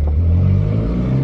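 A Mercedes C63 engine revs up close on a Monaco street, with a loud, steady deep exhaust rumble and a slight rise in pitch held through the full second.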